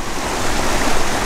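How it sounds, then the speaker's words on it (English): The East Okement river rushes down off Dartmoor, a dense, continuous wash of flowing water close by, steady and fairly loud with no voices. "So this river here runs straight down off of Dartmoor"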